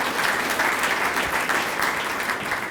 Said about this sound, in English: You can go and give a round of applause for that